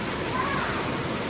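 Heavy rain pours steadily onto the partly missing roof of an old building with a concrete floor in Crown King, Arizona, a dense, even hiss that fills the whole stretch.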